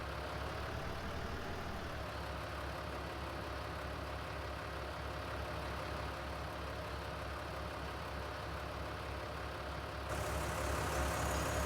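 A tractor engine in Farming Simulator 19 drones at a steady idle, a constant mid-to-low hum that holds unchanged and then brightens slightly near the end.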